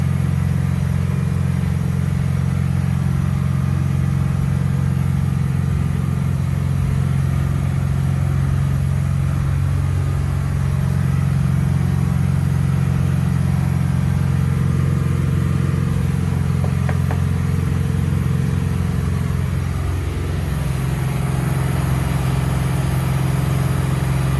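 A boat powered by a MerCruiser 2.8L turbo diesel Bravo sterndrive cruises near 3000 RPM, a steady loud engine drone with constant hull and water rush throughout.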